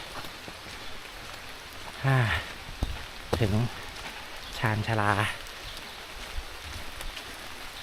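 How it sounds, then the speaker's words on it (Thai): Heavy rain falls as a steady wash at a forest train station platform in southern Thailand, with several voices speaking briefly over it. "โอ้โหฝนกำลังตกหนักเลย"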